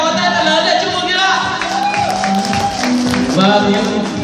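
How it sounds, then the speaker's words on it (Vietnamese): Guests applaud the bride and groom during the ring exchange at a Vietnamese village wedding, a steady wash of clapping with music and voices mixed in, fairly loud and continuous. "quý vị hãy nổ những tràng pháo tay thật lớn để chúc mừng nhé"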